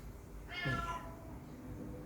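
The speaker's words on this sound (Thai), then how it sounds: "ไอแมวบ้านนี้ มันเป็นแมวนักล่านะลูกนะ" A house cat gives a single clear, drawn-out meow close by against quiet outdoor background noise.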